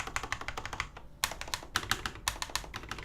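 Typing on a custom G80-3000 HAV mechanical keyboard, with dense bursts of sharp, somewhat hard-sounding keystroke clicks in quick uneven rhythm, a brief pause near the middle, close and clear with no talking.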